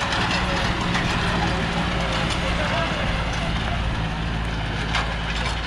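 A Massey 9500 tractor engine runs hard while pulling an 18x18 disc harrow, giving a loud, steady diesel drone with rough low rumble throughout, close by and unbroken.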